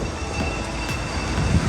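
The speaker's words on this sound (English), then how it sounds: "I'll test the bow thrusters." A Side-Power bow thruster on a 2019 Sunseeker 66 yacht runs with a loud, steady mechanical whine and rumble, and some squeal-like tonal bits rise near the end; no talking.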